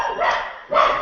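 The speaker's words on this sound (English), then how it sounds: "I apologize for my crazy dog again" A dog barks twice in short, sharp bursts indoors, close and fairly loud, with a brief gap between the two yaps and no talk over them.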